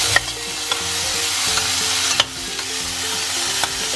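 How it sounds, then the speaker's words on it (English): Tomatoes and celery stirred in a hot frying pan for shakshuka, a steady loud sizzle with occasional sharp clicks of a utensil scraping the pan, no voices. "we will toss in the tomatoes."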